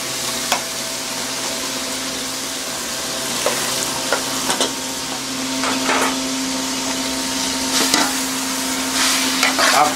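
Onions are stirred in a cooking pot over a low background hum, with a steady sizzle and intermittent scraping and knocking of a utensil against the pot; no voices.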